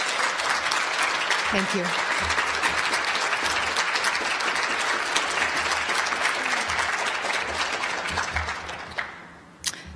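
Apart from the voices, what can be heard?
conference audience applause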